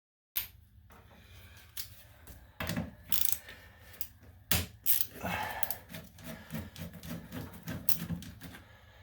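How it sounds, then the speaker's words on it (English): Screws driven into a toilet flange while repairing a rocking, leaking toilet, giving irregular ratcheting clicks and mechanical scrapes in close bursts that continue steadily after a silent start. "by putting these 3 screws in, we're going to have a solid toilet once again"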